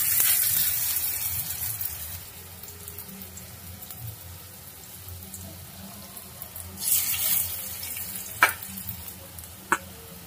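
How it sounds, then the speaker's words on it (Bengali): Onions for aloo piyaju fry gently over low heat, a soft, quiet sizzle with occasional stirring scrapes and a couple of sharp clicks near the end. "তাই কম আছে ভেজে নিতে হবে পেঁয়াজগুলো"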